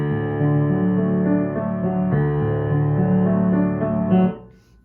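Piano arpeggios roll up and down in steady broken chords for several seconds, then the last notes decay into silence; played alone with no talking.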